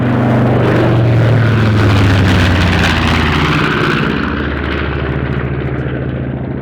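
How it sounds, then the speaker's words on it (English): Consolidated PB4Y-2 Privateer, the only airworthy example, making a surprise flyby at the Buckeye Air Fair: a loud, steady piston-engine drone and propeller roar that swells and then slowly fades as the aircraft passes. "A surprise flyby by the only currently airworthy consolidated PB-4Y2 privateer."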